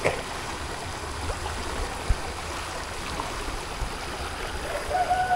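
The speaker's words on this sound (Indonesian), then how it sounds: "Hanya sedikit gemericik." A gently babbling stream trickles steadily in the open countryside, a soft continuous wash of water sound heard alone and at close range.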